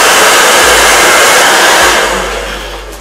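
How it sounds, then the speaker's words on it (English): Loud, steady whooshing roar of a hair dryer blowing close by, continuous throughout and easing slightly toward the end. "And then I'm gonna take my blow dryer."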